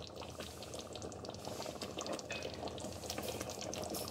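Water is added to a pot of smoky jollof rice cooking on the stove, giving a steady, close hiss of bubbling and sizzling liquid that runs unbroken with no talking.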